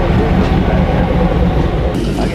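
A train rumbles past loudly and close by, a dense, continuous roar of wheels and rails holding steady throughout.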